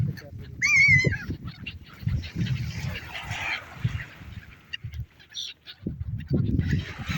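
Several harsh, wavering gull cries ring out near the start, then scattered calls over steady outdoor wind and low rumble, on a cold winter seashore in Odesa.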